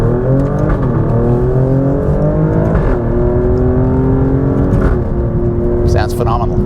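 Engine of a 2020 Alfa Romeo Stelvio Quadrifoglio SUV in manual mode pulling hard through the gears, a loud rising drone that drops and climbs again at each paddle shift, with a voice speaking over it.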